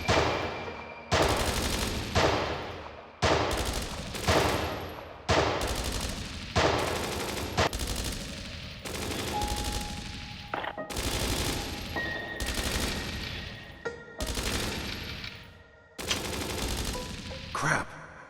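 Video game gunfire in Dreams of Another: repeated heavy bursts of shots, loud and close, coming in regular volleys with brief gaps between them for nearly twenty seconds.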